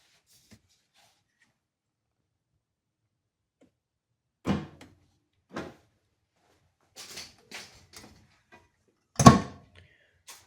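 Repeated plastic clicks and thunks, spaced several seconds apart and close by, as the fuel door on a 2019-2022 Toyota Camry is pushed and pops open on its new spring, one final louder snap.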